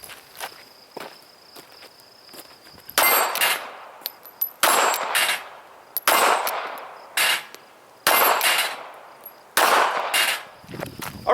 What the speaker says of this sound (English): I'm going to put up some steel plates. We're going to move back a little bit. I'm going to shoot another 5-6 rounds